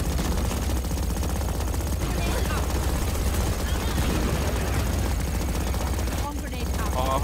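Dense automatic gunfire from a competitive ranked shooter match, with hundreds of rounds fired in sustained bursts that fill the whole stretch while game noise and a voice run underneath.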